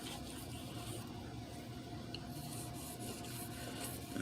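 A knife blade is scrubbed back and forth on a sharpening stone in quick passes, giving a faint, steady gritty rasp with soft rhythmic strokes, close by and without talk.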